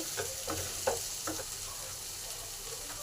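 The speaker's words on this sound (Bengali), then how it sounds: "এবার সব কিছু একসঙ্গে ভালো করে কষে নেব" Potato and pointed gourd korma with spices is stir-fried in a pan, a soft continuous sizzle broken by a few rhythmic scraping stirs, fairly quiet and without speech.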